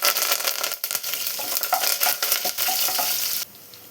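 Crushed ginger and garlic hit hot oil in a pan, giving a loud close sizzle broken by scraping stirs, then dropping to a quieter fry near the end.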